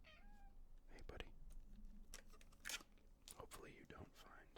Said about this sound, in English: Hopefully you don't find my cat meowing to be very distracting.